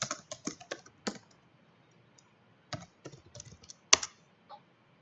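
Bursts of computer keyboard typing on Windows, quick clusters of key clicks with a long quiet pause in the middle and a sharp final keypress, close and clear.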